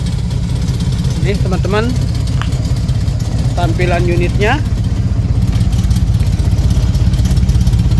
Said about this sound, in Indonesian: mesin, kondisi hidup ya.